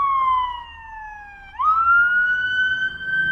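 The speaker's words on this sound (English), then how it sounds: "Better put the siren on for nothing" A paramedic ambulance siren on a city street: a loud, near wail sweeps downward, breaks, then jumps back up to a high sustained tone, with faint traffic beneath and no talk.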